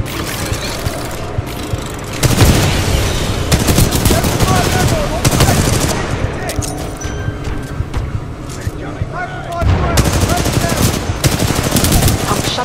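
Loud, close Titanfall 2 gunfire, repeated machine-gun bursts in several blocks across the whole stretch with mechanical clatter between them and talking mixed in.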